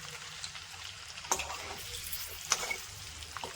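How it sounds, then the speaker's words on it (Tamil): Eggs fry quietly in a pan, a soft steady sizzle with a few sharper crackles and spoon taps on the metal, close and without voices. "அப்படியே வறுத்து கொஞ்சம் நேரம் விட்டு அப்படியே வறுத்து எடுத்துக்கலாம்."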